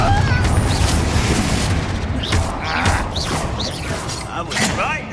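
Blasting Confringo spell explosions burst repeatedly in Hogwarts Legacy, loud booms and crackling impacts layered over dense, continuous battle noise and sweeping magical effects.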